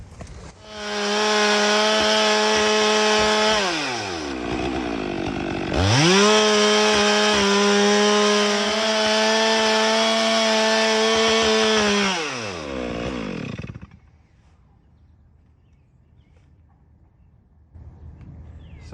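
A dull chainsaw cuts into a big white oak log salvaged after a tornado, its loud, close engine howling steadily with a short dip near four seconds before cutting back in, then winding down to quiet with faint ambient sound.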